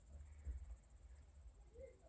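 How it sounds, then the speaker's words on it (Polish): Faint insects chirp in a steady high-pitched drone, with a low rumbling background in a quiet forest. "nie wiem, czy to świerszcze, czy jakieś cykady."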